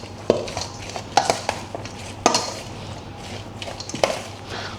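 A healthy breakfast salad being tossed in a bowl, with scattered clinks and scrapes of a utensil against the dish at irregular intervals, close and fairly clear.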